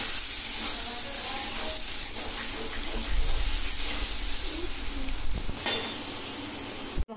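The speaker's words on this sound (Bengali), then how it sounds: "সাদা তেলে প্রথমে আমি পনিরগুলোকে ভেজে নেব।" Paneer frying in white oil in a kadai, a steady close sizzle running throughout, growing louder midway with brief stirring scrapes before a sharp clatter at the end.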